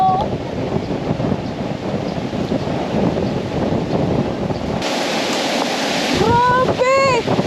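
Storm wind roars with crashing sea waves along the coast at Calatagan, a loud, continuous rush with a brief voice or two near the end.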